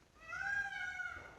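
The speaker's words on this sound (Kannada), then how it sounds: "ನವಿಲಿನ ಸೌಂಡ್ ಬರ್ತಾ ಇದೆ" A single drawn-out, nasal wailing peacock call rises and fades over about a second, clear against a quiet background.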